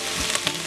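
Garlic and other ingredients sizzle in a pan for chicken noodle soup, a brief, steady crackling hiss with a few small pops, fairly quiet and with no voices.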